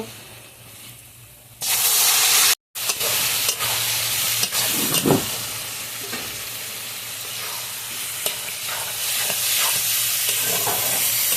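Taro leaves tipped into hot oil in a pan burst into a loud hissing sizzle, then keep frying with steady steam noise and occasional stirring scrapes, close and continuous, with no voices.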